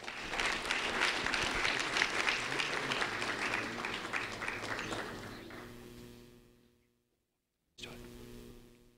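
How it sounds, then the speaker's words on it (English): Applause from a ceremony audience rolls steadily for about six seconds, then fades into brief silence before a short burst resumes near the end. "a round of applause for Caitlin Monroe,"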